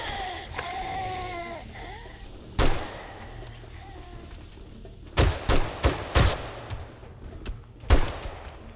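Automatic shotgun blasts in the zombie survival game 7 Days to Die: a single loud shot, then a rapid cluster of four or five, then another, sharp and close, with a voice talking early on.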